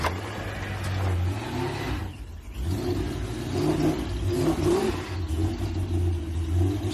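A Pontiac GTO's engine rumbles and revs in a low throaty roar, swelling and dipping over several seconds with a brief lull midway, fairly close and loud with no talk.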